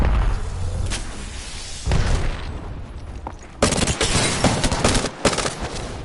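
Bursts of rapid gunfire and heavy booms from a video game shooter, loud and dense, with sustained volleys in the second half and a short burst earlier.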